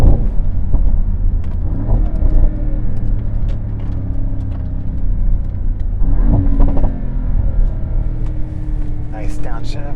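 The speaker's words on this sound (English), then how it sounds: "Nice downshift." A Mercedes-AMG SL 63 with its V8 biturbo engine drones inside the cabin, with a brief rise and blip around a downshift midway; people talk over the engine noise.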